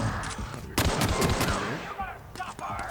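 Rapid bursts of automatic gunfire from a firefight in the video game The Outer Worlds, loud and dense for about a second, then scattered shots trailing off under faint voices.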